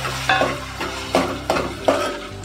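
Prawns hiss and sizzle as they are tossed into hot oil for a Malvani prawn curry, with repeated bursts of frying and stirring scrapes in a close, steady rhythm.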